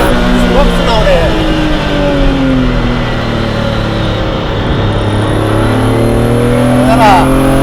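A Ferrari Dino 246 GT engine pulls hard on a downhill run, loud and close throughout, its revs climbing and falling in rising and sliding tones through gear changes, with a voice talking over it.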